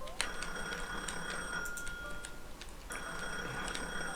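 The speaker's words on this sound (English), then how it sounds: "the phone's ringing again" A telephone rings in the Gemporium shop tycoon video game, a faint electronic trill repeating in two short bursts over a low background bed.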